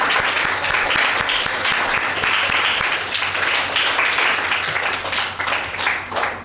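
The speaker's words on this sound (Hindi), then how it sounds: "मैं आप ही की भरपूर तालियों में आपका शुक्रिया अदा करती हूँ।" Loud, sustained audience applause at a Mother's Day special program, a thick wash of many hands clapping at once that continues steadily for the whole stretch.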